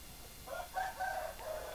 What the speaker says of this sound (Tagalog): So dito din yung ibang mga manok.